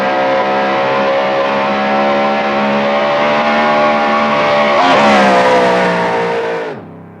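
A 454 V8 engine with high-rise aluminum intake manifold, four-barrel carburetor and headers, held at a loud, steady rev for several seconds, climbing briefly higher before the throttle drops and the roar falls away.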